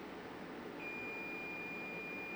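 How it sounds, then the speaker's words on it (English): A Bluetti AC300 power station sounding its overload alarm as it nears tripping, a single thin, steady high-pitched tone that starts partway in and holds continuously under a faint background hum. "You can hear that alarm chiming."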